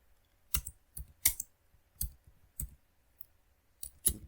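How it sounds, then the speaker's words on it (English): Typing on a computer keyboard, several separate crisp key clicks spaced at irregular intervals, close and fairly loud against near silence. "Let me type Richie"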